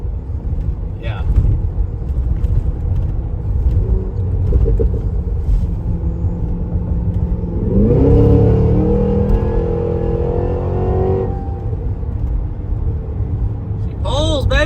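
A cammed 2023 Cadillac Escalade V engine rumbling at low speed, then surging loudly as it accelerates hard through a gear, with cabin rumble throughout and people talking inside.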